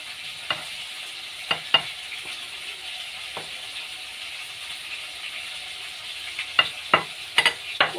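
Chopped peppers and tomatoes fry in a pan for a potato and chicken casserole, a soft steady sizzle punctuated by sharp scraping clicks of stirring, clustered near the start and again toward the end.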